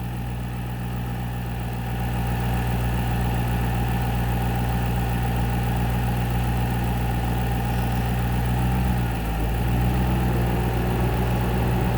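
A 2009 Ford Mustang GT engine idles steadily nearby with its air-conditioning compressor running, a constant low hum and drone that rises slightly after a couple of seconds, no talking.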